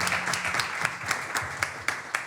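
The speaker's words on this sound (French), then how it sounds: "Est-ce qu'on peut applaudir une seconde fois pour l'intervention?" Modest audience applause in a French talk or conference setting, a steady patter of clapping with a few sharper claps standing out, moderately distant and fairly soft throughout.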